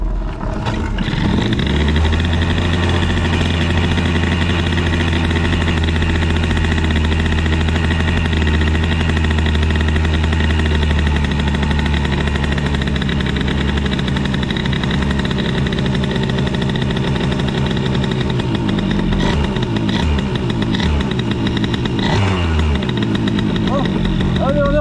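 An MBK Booster scooter fitted with an Airsal 70cc kit is started on choke and idles with a steady buzzing drone, then revs up and falls back near the end. Someone speaks French over it.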